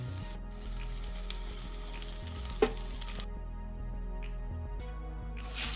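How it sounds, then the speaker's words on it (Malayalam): Okra and chopped tomato fry in a pan for a curry, a quiet, steady sizzle with one brief clatter of stirring midway, nearby and without speech. "ഈ ടൊമാറ്റോയും കൂടി നന്നായിട്ട് വഴന്നു വരുന്ന പോലെ നമുക്കിതൊന്ന് ഇളക്കി യോജിപ്പിക്കാം"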